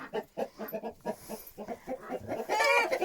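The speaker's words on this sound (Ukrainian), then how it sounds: "розходилися кури щось" Backyard farm chickens clucking and stirring about, a run of close, rhythmic short clucks followed by a louder, drawn-out squawking call at the end.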